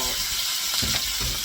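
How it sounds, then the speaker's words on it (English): A ribeye steak sears in a hot pan, giving a loud, dense, unbroken sizzle up close with a couple of slight swells in the hiss. "We got the steak here seared in the pan"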